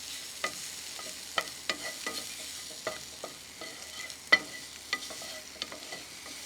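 Calamari sears in a hot pan under a faint, low sizzle, broken by a dozen or so sharp utensil taps and scrapes at irregular intervals, with no voices.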